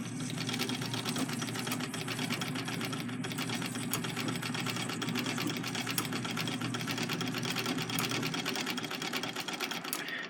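A treadle sewing machine runs with the bobbin winder engaged, giving a continuous loud mechanical whirring with fast rhythmic clatter at a steady pace throughout, alone and without talking.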